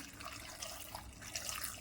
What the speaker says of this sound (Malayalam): ഇനി വെള്ളവും കൂടെ ഒഴിക്കാം